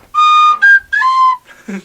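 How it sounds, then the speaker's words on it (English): A handheld whistle blown in several sharp, loud bursts, with a long first blast followed by shorter toots and a trailing warble. "every time I blow this whistle"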